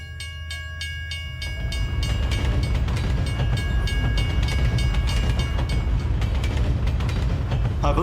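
A train rolls past in a video game, a loud continuous rumble with clattering wheel noise that builds after the first two seconds and holds steady, with no talking over it.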